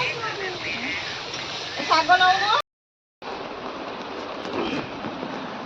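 Heavy rain pours down steadily in a village, a dense, even hiss that breaks off for a moment of silence before resuming; a voice is briefly heard over it.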